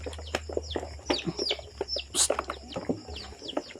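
Chickens cluck and chirp in bursts through a farmyard, fairly close, with scattered calls and a low steady background hum.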